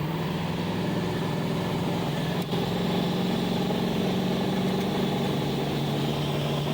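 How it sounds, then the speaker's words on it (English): A car engine with a turbo boost leak on the cold side runs at a steady, loud drone with a constant hum, holding even throughout with no talk. "I can hear the boost leaking up there in that cold line, cold side."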